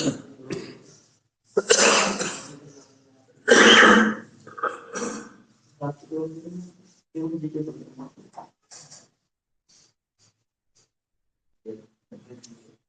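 A person coughs several times in harsh, loud bursts, with throat clearing and brief speech between the fits.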